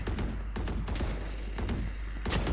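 Gunfire in the tactical shooter Valorant, several sharp shots and short bursts over a loud, dense game mix, with no talking.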